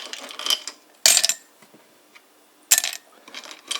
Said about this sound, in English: First thing you gotta do is to put the ice cubes